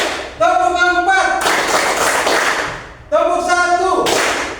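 Hand claps in a counted clapping routine led in a classroom, with loud bursts of rapid clapping in two bouts separated by a pause, close and sharp, alongside voiced counting.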